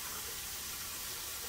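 Water rinses a freshly scrubbed coconut, producing a steady, close, broadband splashing and gushing with no voices.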